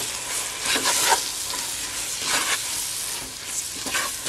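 Flour and sugar being stirred together in a bowl for hopia dough, a close, dry, gritty scraping that comes in repeated swishes, with no speech.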